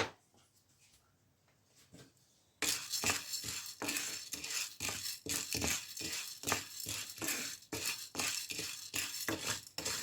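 Washed toor dal dry roasting without oil in a pan over low heat, stirred with a rapid, continuous rattle and scrape of grains against metal after a quiet start, close and fairly loud.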